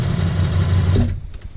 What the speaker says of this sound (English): Let's do a little back stitch.